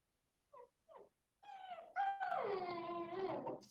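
A small dog whines indoors: two short soft yips, then a rising, drawn-out wail and whimper that swells louder and wavers for a couple of seconds, close to the microphone.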